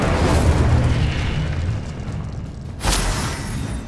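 Fiery spell blast from Hogwarts Legacy on PlayStation 5, a loud, rumbling booming burst that swells and fades, followed by a second sharp explosive crack near the end.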